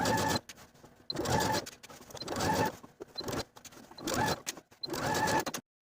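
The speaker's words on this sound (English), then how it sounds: "then edge stitch close to that folded edge from top to bottom" A domestic sewing machine edge-stitches a flat felled seam on a jacket, running in several short bursts with brief pauses between passes, close and fairly quiet.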